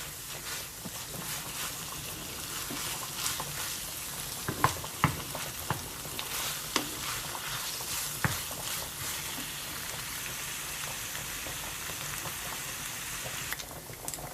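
Continuous sizzling of minced meat frying in a pan, with occasional sharp pops and scraping clicks of stirring.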